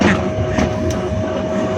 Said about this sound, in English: We are sitting in a toy train, actually the toy train, and train has started.